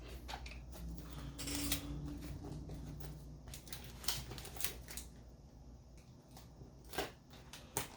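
Strips of adhesive tape peel off the roll and press onto a foam RC flying wing during assembly, giving close crackling rips and short taps in bursts, with a few sharper pulls near the end.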